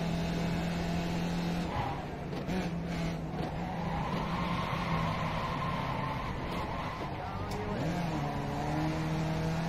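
Race car engine in a racing sim game such as rFactor 2, Assetto Corsa or iRacing, droning steadily close up with pitch shifts as gears change, tyres skidding and scrubbing during contact and off-track moments.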